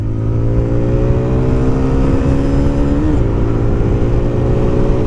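TVS Raider 125 motorcycle pulling hard at full throttle, a steady close engine drone with rising harmonic whine that shifts briefly near the middle, continuous and loud with no talk.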